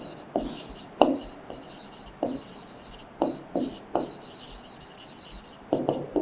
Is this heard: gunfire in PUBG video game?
no